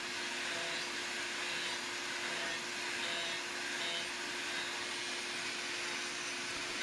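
Dust collection system running at a tilting, swiveling power carving workbench, a steady loud whooshing roar with a constant whine, unbroken throughout.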